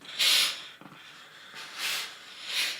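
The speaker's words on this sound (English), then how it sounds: "Get some nice steam, and then I'm going to finger press." Steam iron pressing a sleeve seam on a pressing ham, three soft bursts of hissing steam separated by a faint thump, close and quiet.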